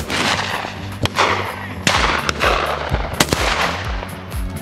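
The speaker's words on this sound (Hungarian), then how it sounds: "A továbbiakban még dördült néhány lövés" Gunshots ring out during a pheasant hunt outdoors, with several sharp, loud reports spaced a second or so apart over a constant rumbling background.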